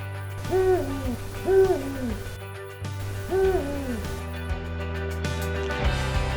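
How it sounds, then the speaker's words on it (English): Owls hooting in reply at night on the Grand Canyon's North Rim, a series of soft, rising-and-falling hoots repeated about four times over a steady low background hum, fairly close and alone without talk. "So there are gaggles of ground owls here, and they will answer you."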